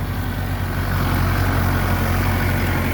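Tractor engine running steadily in a rice field while clearing a path for a Kubota DC-105X rice harvester, a loud, close, constant low rumble with no breaks or talking.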